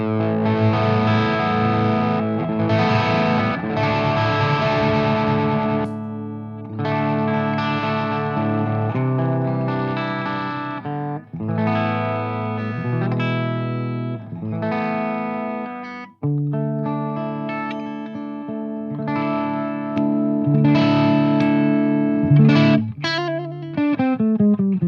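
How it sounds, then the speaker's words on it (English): A Schecter Banshee electric guitar through a Marshall DSL 100 H amp in clean mode rings out in close, loud strummed chords and picked runs, with short pauses between phrases and no talking. "Let's see the clean mode."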